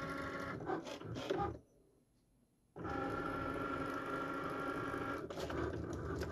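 A Cricut cutting machine working on a printed sticker sheet whirs and buzzes with a motorized drone, stops for about a second of near silence, then resumes its steady mechanical hum, close and alone.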